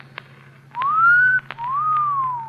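A man whistles two sustained, clear tones, each gliding slightly up then down, loud and close over a faint hum in an old-time radio drama, with short clicks between them.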